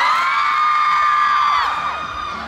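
A fan-meeting audience screams and cheers in high-pitched unison, a loud sustained roar of many voices that swells and then tapers off near the end.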